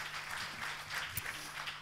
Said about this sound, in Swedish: Och en stor applåd.